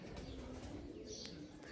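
A few pigeons outdoors in the sun, faint low cooing running steadily under a noisy open-air background, with a brief high chirp partway through.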